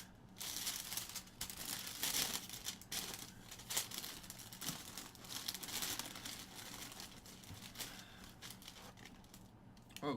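Wrapping paper crinkling and rustling while a pair of Jordan 7 Patta sneakers is unboxed, a continuous close crackle of handled paper with louder crumples throughout.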